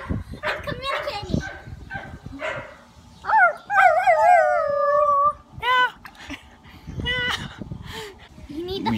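A dog howls close by in a long wavering cry, then gives a few shorter yips and whimpers, amid laughter and casual talk from several people outdoors by a pool.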